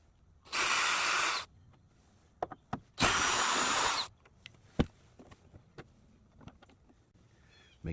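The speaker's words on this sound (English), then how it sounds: "I'm actually going to use my drill." Two short bursts of a power drill on its lowest setting whirring while removing small screws from a Plymouth Prowler headlight, each about a second long, followed by scattered light clicks and taps.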